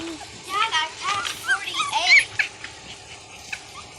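Young puppies whimper and attempt wobbly little howls, a string of high, quavering yelps and whines close by, with people talking over them.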